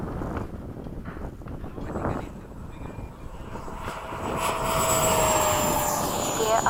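F-5 jet aircraft at LFE, its engine rising from a lower roar to a louder, sustained whine and roar in the second half, with a voice speaking briefly early on.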